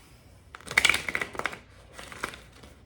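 A deck of tarot cards is shuffled by hand in two short bursts of riffling, crisp papery flutters, close and fairly quiet against a silent background.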